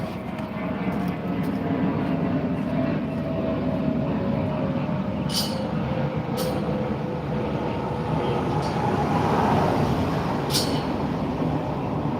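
Planes passing overhead in a New Zealand winter outdoors, a steady distant roar swelling gently over about twelve seconds, with a few faint high clicks and no talk.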